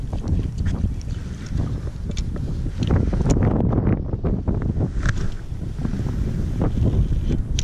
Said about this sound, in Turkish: Rüzgar arkamdan esiyor arkadaşlar.